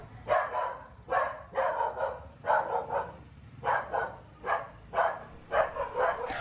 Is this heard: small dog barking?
yes